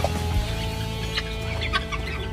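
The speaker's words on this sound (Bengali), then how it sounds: "এগুলো সব তিরিশ টাকা পিসের মুরগির বাচ্চা" Farm chickens, including young chicks, cluck close by in a short steady run of calls over a low background hum.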